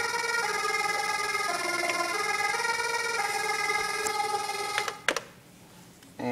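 A MicroKORG synthesizer plays a riff, a bright, steady tone stepping through a short repeating note pattern, loud and close, cutting off abruptly near the end.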